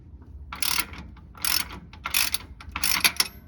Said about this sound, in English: Remove the drain plug a few turns, and then prepare to get a little bit messy.